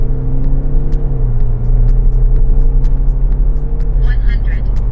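A car engine held at steady high revs with DSC fully switched off, readied for a two-pedal launch in a 0–100 acceleration run, droning loudly and evenly with a slight shift in pitch partway through.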